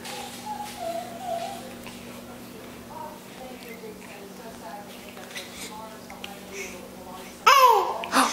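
An infant babbles in soft, high coos and short vocal bursts, near and quiet, followed by a louder excited squeal at the end, with faint background hum.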